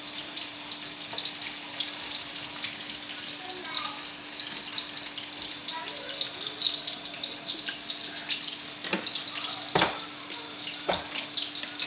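Finely chopped onions frying in oil left over from cooking pirzola cutlets, a steady soft sizzle with faint crackles and a few light knocks of utensils, no voices.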